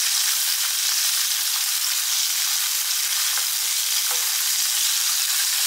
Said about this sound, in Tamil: சின்ன வெங்காயம் போடுறேன்.